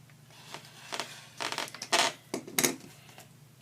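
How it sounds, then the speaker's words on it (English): Scissors cut quilt fabric corner to corner along a marked diagonal, producing a series of short, crisp snipping and slicing strokes in irregular rhythm, close and fairly quiet. "what I'm going to do now is cut right along that line"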